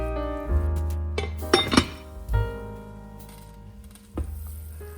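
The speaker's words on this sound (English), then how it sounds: "Do some stirring to avoid burning." A utensil stirs vegan eggplant curry in a pot, with a few close clinks and scrapes against the metal over a low steady hum.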